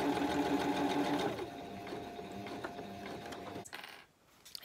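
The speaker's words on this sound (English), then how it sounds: "I'm just going to stitch along this top edge here where I've popped that clip, just to hold that opening in place" A sewing machine runs a straight stitch along a fabric edge for a wrist pincushion, whirring steadily and close for over a second, then slowing into softer mechanical clicks before stopping.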